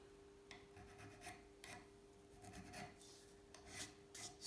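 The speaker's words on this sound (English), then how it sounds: "that's the filing concluded on this end" A metal file rasping on a vintage Atala bike frame, a series of short irregular scraping strokes, close and fairly crisp, with brief pauses between them over a low background hum.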